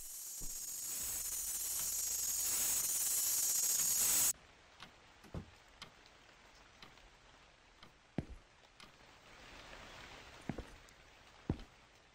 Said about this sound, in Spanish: Ah, está lloviendo.